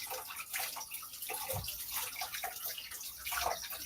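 Salad vegetables are washed under a running kitchen tap, water splashing and hissing softly and continuously at a low level, with a few louder gurgles and splashes as the produce is moved.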